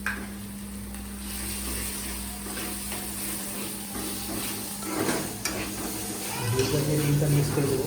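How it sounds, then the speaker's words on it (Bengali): Beaten egg stirred into frying noodles and potatoes in a hot pan, a steady sizzle under scraping stir strokes, rising louder near the end as more hits the oil. "ডিমটা মিক্স করে দেবো।"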